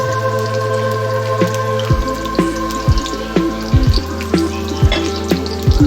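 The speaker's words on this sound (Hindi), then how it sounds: "यहाँ पे हम ऐड करेंगे ऑयल, तो ऑयल हमारा गर्म हो गया। अब हम इसमें ऐड करेंगे प्याज" Sliced onions sizzle as they hit hot oil for a beef yakhni pulao, a steady close frying hiss broken by intermittent thumps and clatters of stirring, with a sustained low hum running beneath.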